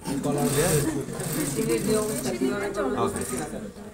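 A sewing machine top-stitches a shirt collar in a steady continuous run, mid-distance, with a voice talking over it throughout.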